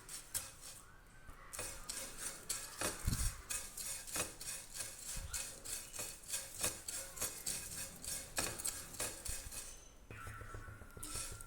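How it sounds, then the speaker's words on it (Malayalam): Beaten rice (aval) dry-roasted in a pan and stirred, giving a steady rhythmic scraping and rustling with light metallic clinks, close and fairly quiet. "ഇനി ഇത് നന്നായി ഒന്ന് റോസ്റ്റ് ചെയ്തെടുക്കാം."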